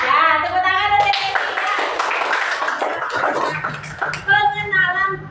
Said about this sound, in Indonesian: tepuk tangan untuk ini